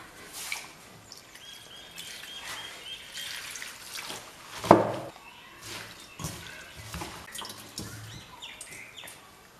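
Arai keerai (spinach) leaves are rinsed in water in a kitchen, with soft splashing, dripping and swishing at low level, one sharper splash midway, and faint birdsong in the background.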